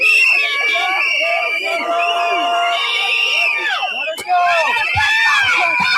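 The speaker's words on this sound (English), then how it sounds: "the angry crowd threw snowballs and screamed at the federal agents" An angry crowd screaming and shouting at federal agents, many overlapping raised voices with whistles and yells forming a dense, loud, continuous din.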